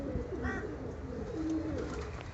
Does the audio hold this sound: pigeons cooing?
yes